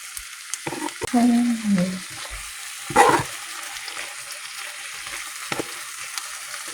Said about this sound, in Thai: ทำหมูให้มันสุกประมาณห้านาที